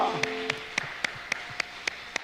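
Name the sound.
congregation applause in church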